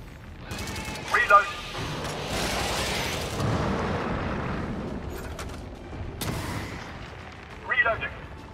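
Artillery barrage in the video game Helldivers, with deep booming explosions rolling continuously for several seconds, sharper blasts near the start and end, and game voice lines heard over the bombardment.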